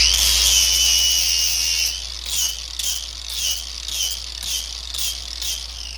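A high-pitched power tool with a flap wheel whines as metal busbar edges for a battery bank are deburred, first in one long pass, then in a series of short rhythmic bursts.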